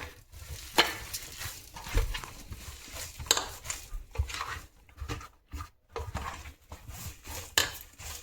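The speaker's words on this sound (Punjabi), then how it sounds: "ਪਲੇਨ ਆਟਾ ਇਹਦਾ ਵਧੀਆ ਜੇ ਕਰਕੇ ਗੁੰਨਣਾ" Plain flour dough is kneaded by hand, giving soft, irregular squishing, pressing and slapping noises close by, with small gaps between strokes and no talking.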